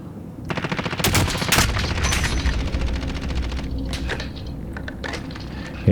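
Suppressed automatic gunfire in the Modern Warfare video game: rapid bursts of muffled shots rattling quickly, with a couple of sharper cracks early on, then thinning into scattered shots.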